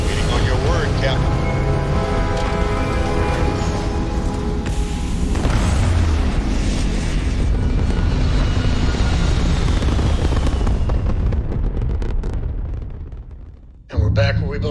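Starfield spaceship engine, a loud steady roar with rumbling low end and layered tonal hums that swells, then drops off sharply near the end before a brief burst returns; a voice speaks over it.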